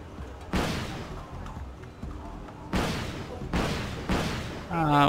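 Heavy gunfire from units in the Wargame AirLand Battle video game: four loud, booming volleys spaced a second or so apart over a low rumble, with a brief voice at the end.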